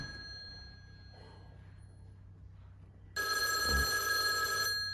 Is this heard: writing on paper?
no